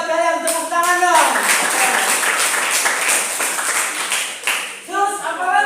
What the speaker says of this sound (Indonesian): Hebat, kalian tepuk tangan dong.